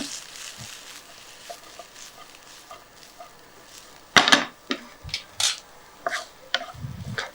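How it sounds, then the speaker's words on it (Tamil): Bihar-style chicken rice being stirred in a pan over a low flame: sporadic scrapes and clinks of a utensil against the pan, growing busier toward the end over a quiet, faint background. "லோ ஃப்ளேமில் அப்படியே நல்லா கிண்டி விட்டுருங்க"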